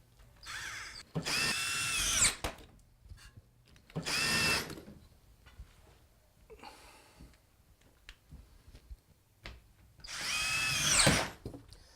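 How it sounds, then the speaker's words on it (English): A screw gun fitted with a drywall tip drives drywall screws through wallboard into ceiling strapping: three loud, close whirring bursts of about a second each, with quieter handling clicks between them and no talk. "I've installed a drywall tip in my screw gun, which will allow the drywall screw to countersink just at the right depth."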